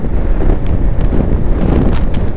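Strong wind roars and buffets continuously during a rainy motorcycle ride, loud and close with a rough, gusting rush and no talking.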